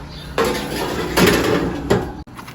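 Metal baking pan of layered fli slid back into a home oven, with a few loud metallic clanks and scrapes of the tray against the oven rack, ending in a short sharp knock.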